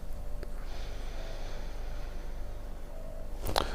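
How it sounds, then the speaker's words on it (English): Someone takes one short, sharp sniff near the end from a glass of carbonated dry hopped imperial pilsner, over an otherwise quiet, faintly hissing background. "Let's see how this one sniffs."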